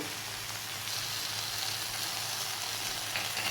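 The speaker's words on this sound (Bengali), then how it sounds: "একটু ভালো করে তিলটাকে কিন্তু ভেজে নিতে হবে" Sesame seeds fry in a pan for a potato and okra curry, giving a soft, steady hiss and sizzle that stays even throughout with no voices.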